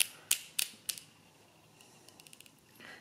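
Clearing mechanism of a Thales pinwheel calculator turned by its wing nut, a series of three or four sharp metallic clicks in quick succession followed by a softer ratcheting run of small ticks, close and alone.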